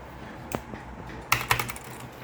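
Typing on a SKYLOONG GK61 60% mechanical keyboard with Gateron Red switches: a few soft, close keystrokes, one lone click followed by a quick cluster of clacks.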